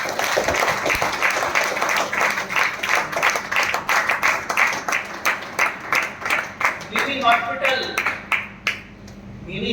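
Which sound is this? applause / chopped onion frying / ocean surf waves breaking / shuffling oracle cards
applause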